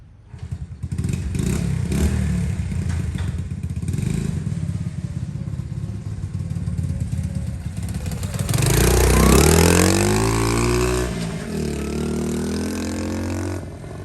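Roadside traffic streams past outdoors, a steady wash of cars with a motorcycle roaring close by midway, its engine revving and pitch sliding as it passes before the flow settles back to a constant hum.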